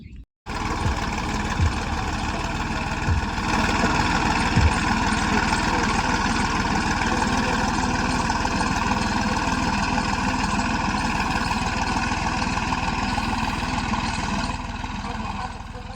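A farm tractor's engine idles steadily and loudly close by, a constant low rumble with a rough mechanical knock running throughout.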